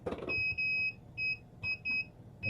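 A multimeter's continuity tester beeps as its leads touch black wires in basic AC and DC wiring, giving a clear high tone in four short bursts of uneven length with no talking.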